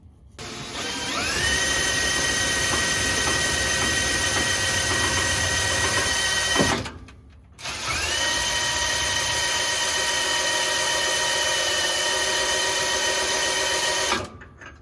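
A rebuilt 2018 Chevy Bolt differential spun up to check the gear pattern, giving a steady, loud mechanical whine and gear hum that runs for several seconds, drops out briefly, then spins up again.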